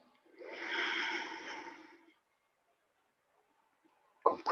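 A long, audible nasal inhalation lasting nearly two seconds during an aikido breathing exercise, close and breathy, followed by silence and then a brief sharper sound.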